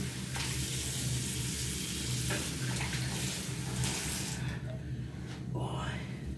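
Tap water runs steadily and loudly while a face is washed, a continuous rushing splash that cuts off near the end.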